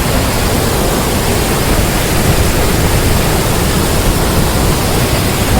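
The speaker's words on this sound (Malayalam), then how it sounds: "പാറക്കെട്ടുകളിൽ തലതല്ലി പ്രകമ്പനം തീർത്ത് ഹുങ്കാര ശബ്ദത്തോടെ പതിക്കുന്ന വെള്ളച്ചാട്ടം" Loud, unbroken roar of a large waterfall crashing down onto rocks at Chathurangappara, a dense, steady wash of noise filling the whole clip with no voices.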